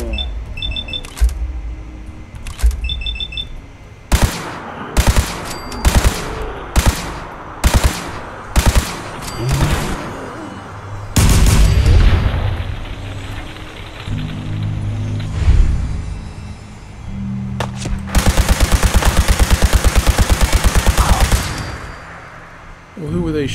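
Gunfire from raiders in Fallout 4: a run of sharp, loud single shots at irregular intervals, followed by heavier bursts and a long rapid automatic volley near the end, with other game noises between.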